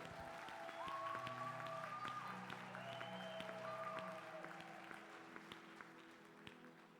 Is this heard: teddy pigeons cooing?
no